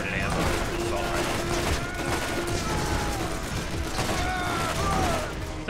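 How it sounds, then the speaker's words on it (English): Caustic burst-fire assault rifle in the Borderlands video game shooting continuously, a dense, loud barrage of gunfire with mechanical clatter throughout. "This is a really good caustic infinite ammo assault rifle."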